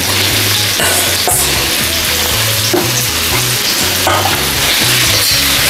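Pork and onion stir-fry in a hot pan, a dense, loud sizzle running continuously with stirring scrapes and clatters over a repeating low tonal pattern, with no voices.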